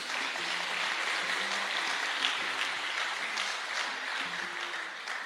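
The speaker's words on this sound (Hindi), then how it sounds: "जोरदार तालियां खुद के लिए।" A seminar audience at a motivational business talk claps in a steady, sustained wash of applause, fairly distant and even, with no talk over it.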